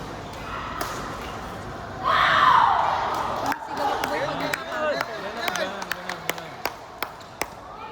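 A crowd at a game breaks into loud shouting and cheering for about a second and a half. Chatter and a series of sharp knocks or slams follow.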